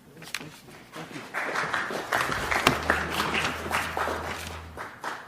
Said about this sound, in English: I got to clap, Premier. I got to clap.